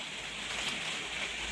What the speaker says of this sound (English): It is raining hard outside, you can probably hear.